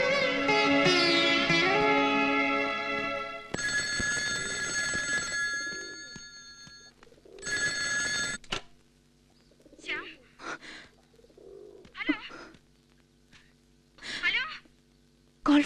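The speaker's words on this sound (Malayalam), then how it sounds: "Call for Shyam." A telephone bell rings in a Malayalam movie scene, long sustained ringing bursts, then a pause and more rings, with people talking over the later part.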